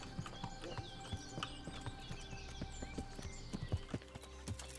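Horse hooves clip-clop along in Kingdom Come: Deliverance, a steady rhythmic trot of distinct, fairly quiet hoofbeats with faint background ambience.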